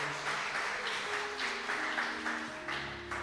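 A church congregation applauds, a continuous close wash of clapping from many hands that swells and dips slightly, with faint sustained tones beneath it.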